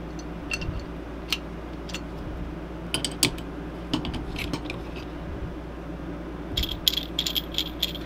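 A valve fitting is screwed into a cooler by hand, with light metallic rattles and clicks that come in scattered bursts up close, and a brief cluster of clinks near the end.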